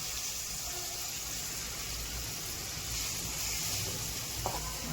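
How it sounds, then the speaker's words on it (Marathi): Water hits a hot pan of spicy chickpea curry and sizzles steadily, a soft continuous frying hiss with a faint clink near the end. "आता थोडं पाणी टाकून घ्यायचे मध्ये."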